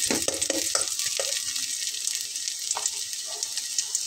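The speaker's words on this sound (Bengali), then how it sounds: "সেই জন্য পেঁয়াজটা একটু ভেজে নিচ্ছি।" Onions frying in a pan for a pointed gourd mash give a bright, continuous sizzle, with a few soft clinks and stirring knocks near the start and no voices.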